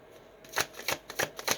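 Tarot cards shuffled by hand in a short run of about five crisp riffling bursts, close and fairly quiet, with a faint hiss before the first one and no talk.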